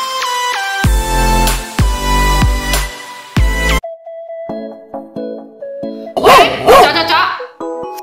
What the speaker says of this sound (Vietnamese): đừng có sủa nha